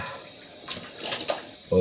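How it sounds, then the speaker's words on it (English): Cold water running from a bathroom tap during a straight-razor shave, a soft steady splash that builds in the middle and ends abruptly, with a brief voice near the end. "All right, cold water."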